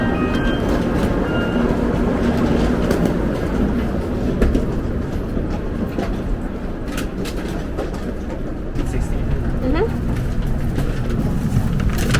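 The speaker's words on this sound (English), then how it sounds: "we're about to board the Shinkansen to Kyoto" A Shinkansen bullet train bound for Kyoto stands at a Tokyo station platform: a steady, loud, close rail and station hum fills the background, with faint clanks and people talking nearby.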